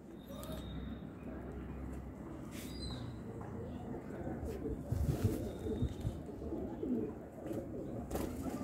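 Pigeons coo softly in low, throaty murmurs amid background rustling, with a faint voice now and then.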